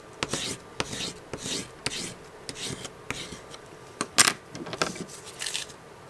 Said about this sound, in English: I think this is the one that I did not burnish from the back side, so let me do that real quick.